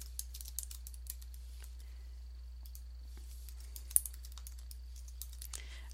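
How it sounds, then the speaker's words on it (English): Quiet, sparse keystrokes on a computer keyboard as a movie title is typed, scattered soft clicks with one sharper tap near the middle, alone over a faint steady hum. "now I can type in the name of my movie"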